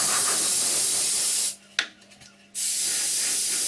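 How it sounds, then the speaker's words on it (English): Airbrush spraying paint onto an Eduard B-24 scale model, a loud steady hiss that cuts off for about a second with a brief pop, then resumes. "I'm just going to carry on spraying this around"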